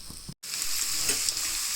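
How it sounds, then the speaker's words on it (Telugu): Potatoes sizzle in hot oil with a spice tempering for Telugu-style aloo fry, a steady close frying hiss broken by scraping stirs, with a brief gap near the start. "పోపులో పోపులో పొటాటోని బాగా మిక్స్ చేసేసుకోవాలి ఈ విధంగా"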